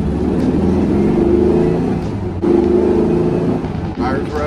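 A 1971 VW Beetle runs while driving, its air-cooled engine giving a steady mid-pitched drone that swells under throttle and briefly dips before picking back up, with people talking over it inside the car.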